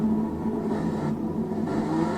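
A Honda Integra touring race car in Gran Turismo 6 pulls into the pits, its engine a steady, droning hum with a slight shift in pitch partway through, heard alone.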